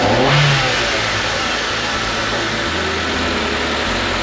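A Mitsubishi Mirage engine tuned to run on methanol flex fuel revs hard up close, a loud sustained roar that swells briefly then holds steady and buzzy, no talking.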